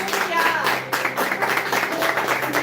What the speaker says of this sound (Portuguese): Quem pode dar uma salva de palmas para Glória a Jesus?